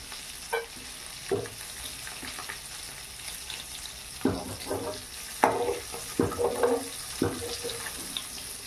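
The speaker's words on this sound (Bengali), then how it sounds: "কিছুক্ষণ ভেজে নেওয়ার পর দেখুন লাল লাল ভাজা ভাজা হয়ে গেছে চিংড়ি মাছ" Prawns frying in a wok, with a steady low sizzle broken by several sharp clatters and scrapes of stirring, loudest in the second half.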